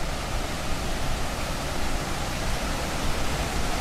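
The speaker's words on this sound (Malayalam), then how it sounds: "ഇവിടെ എത്തിയാലും വെള്ളത്തിൻ്റെ സൗണ്ട് നല്ല രീതിയിൽ കേൾക്കാൻ തുടങ്ങിയിട്ടുണ്ടേ" A small waterfall and stream at Kurumathoor in Kannur give a steady, dense rush of flowing water, close and even throughout with no voices.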